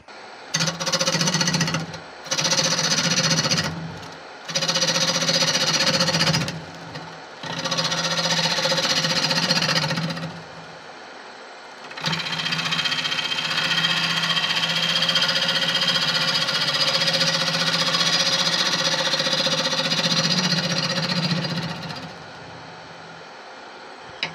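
A tigerwood bowl blank spins on a wood lathe as a gouge flattens its face, giving loud, rough, buzzing cutting in several bursts of a few seconds, then one long sustained pass before the motor hum fades.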